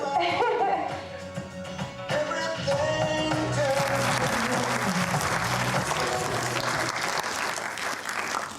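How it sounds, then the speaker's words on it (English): An audience at a film preview screening breaks into applause, a dense, steady wash of clapping that swells and carries on for several seconds, with some music fading beneath at the start. "how many times an audience claps at the end of a preview"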